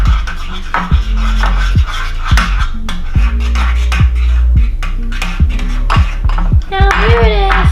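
Thick crunchy slime being stirred and squished, with dense crackling, popping and rasping textures repeating close up throughout, plus a brief higher squeak near the end.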